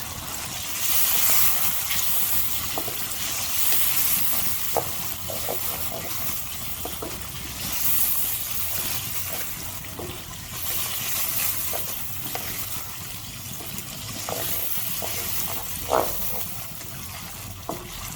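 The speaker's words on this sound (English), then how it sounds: "Now I'm gonna add 1 cube of lemon juice, which I've already froze." A frozen lemon juice cube drops into a hot kebab masala karahi and sizzles, a steady close frying hiss with soft stirring scrapes and small pops throughout, no voices.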